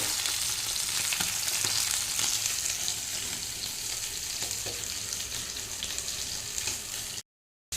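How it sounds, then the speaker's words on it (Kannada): Fish frying in a pan, a batch of four at a time, giving a continuous hissing sizzle with occasional soft clinks before the sound cuts off abruptly near the end. "ನೋಡಿ ಇವಾಗ ನಾಲ್ಕು ಮೀನು ಫ್ರೈ ಮಾಡಿ ಆಯಿತು ಇನ್ನು ನಾಲ್ಕು ಫ್ರೈ ಆಗ್ತಾ ಇದೆ"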